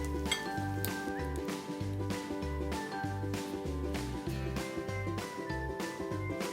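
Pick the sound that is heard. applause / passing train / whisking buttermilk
whisking buttermilk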